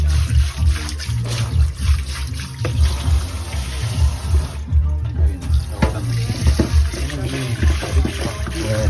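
Water runs steadily from a tap into a cooking pot in a home kitchen, a continuous splashing trickle heard up close throughout.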